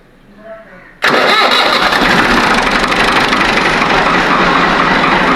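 After a second of quiet with a faint voice, a motorcycle engine on a Pakistani farm fires up abruptly and runs loud and close, a steady rough idle for the rest.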